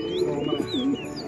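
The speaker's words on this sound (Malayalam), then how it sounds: "ഓമർ ഇനത്തിൽപ്പെട്ട പ്രാവുകളാണ് ഇതൊക്കെ" Omer breed fancy pigeons in a pigeon-rearing loft coo in a low, rolling burst, a single close call standing out over faint chirps and background bird noise.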